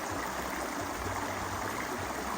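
A cold stream flows steadily near a house, its close, even rushing wash of water filling the whole clip without a break.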